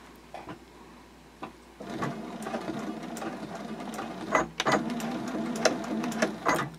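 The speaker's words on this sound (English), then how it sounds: "You just want to sew right on top of those lines." Sewing machine stitching over fold lines on a fabric card clutch, backstitching back and forth; a steady mechanical whir that starts quietly, then runs louder and continuously with brief pauses and restarts.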